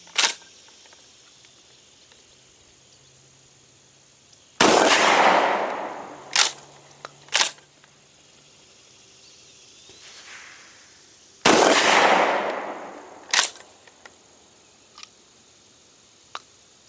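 A GForce GF12 pump shotgun fires shells of pellets twice, each a loud blast with a long tail, followed by sharp clacks of the pump action and a few fainter clicks in between.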